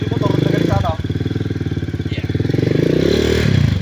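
A trail motorcycle engine runs on slippery, muddy ground with a loud, close, pulsing throb that dips briefly and then rises again, while people talk over it.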